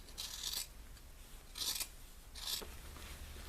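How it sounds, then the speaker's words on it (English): Scissors cut through thick sweatshirt fabric in three separate rasping snips, each under a second long, close and moderately quiet, with no one speaking. "And I'm going to finish cutting the rest of this."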